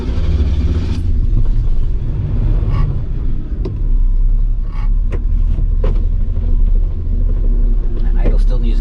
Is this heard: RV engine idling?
yes